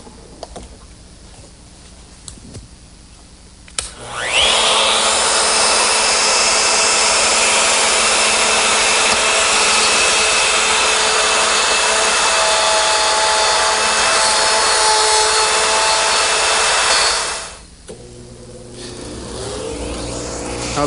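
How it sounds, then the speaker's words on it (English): A router with a 1/2-inch straight cutter and a guide collar cuts mortises in wood for a butcher block, producing a loud, continuous whine for about thirteen seconds. The tool starts abruptly, then stops, with quiet shop sound before and after. "this collar on my router will ride for the mortise cuts"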